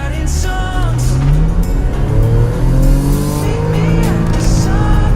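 A Porsche Macan in sport mode revs hard toward 7,000 RPM, its loud, close engine note climbing in repeated rising sweeps between gear changes, with no talking.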